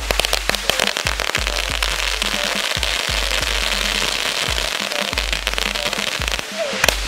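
An outdoor fireworks cake fires a rapid volley of shots, dense booms and crackling bursts overlapping one another, loud and sustained for several seconds.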